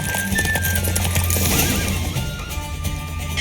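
Horse racing in The Witcher 3: rapid clip-clop hoofbeats under a neighing whinny, close and fairly loud, with a busy game background and no talking.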